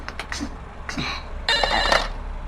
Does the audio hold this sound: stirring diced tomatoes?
no